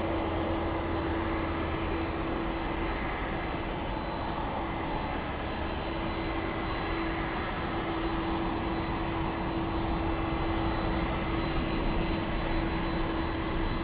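Delta Boeing 767 jet bound for Honolulu at LAX, a loud steady roar of jet engines with a sustained whine, close and continuous throughout.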